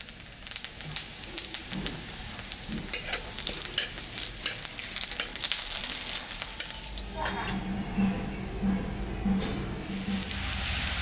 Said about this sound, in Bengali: এখন আমি তেল দিয়ে দিলাম তেলের উপরে শুকনো লঙ্কা জিরা সম্বরা দিলাম